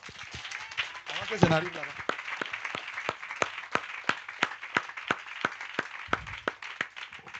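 Church congregation clapping in steady rhythmic applause to acclaim Jesus, sharp regular claps continuing throughout with a voice speaking briefly near the start.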